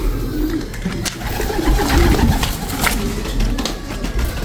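Racing pigeons and fancy ice pigeons cooing in a loft, steady close murmuring coos with scattered wing and cage noises throughout.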